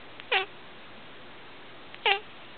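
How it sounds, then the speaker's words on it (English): A kitten gives two short, high meows about two seconds apart, close and clear over a faint background hiss. "And on his farm he had a cat."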